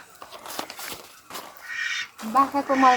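Ducks quack in a village yard, a few close nasal calls bunched at the end, with a person talking over and before them.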